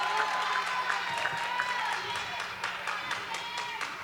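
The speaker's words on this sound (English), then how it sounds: "Crowd getting into it." A crowd at a 1990 girls' high school basketball game cheers and claps through a busy, reverberant gym, heard at a distance under a commentator's voice.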